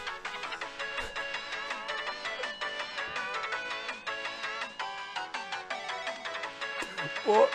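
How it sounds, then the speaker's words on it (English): A melodic phone ringtone from the visual novel game Steins;Gate 0 plays loud and steady with layered tonal notes throughout, ending with a brief bump of sound. "The ringing that suddenly interrupted our conversation was coming from Daru's phone."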